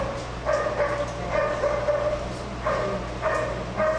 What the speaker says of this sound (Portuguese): Os cachorros tá que tá, hein?